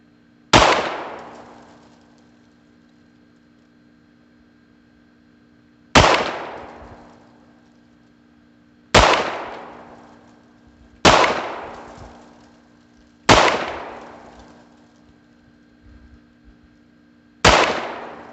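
A Beretta U22 Neos pistol fires six sharp, loud single shots with irregular pauses of one to four seconds between them, each crack ringing out and decaying with no talking.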